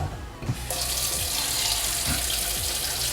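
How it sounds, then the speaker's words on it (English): Water pours into the tank of a CO-Z 4L water distiller, a steady hissing splash that starts after a short bump and continues loud and close to the end, with no talking. "You guys want to fill the water inside right here."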